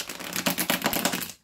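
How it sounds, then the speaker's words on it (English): Tarot cards are riffle-shuffled in one quick burst of rapid, crisp clicking flutter lasting just over a second, close and fairly loud, then stopping abruptly. "let's shuffle the cards here"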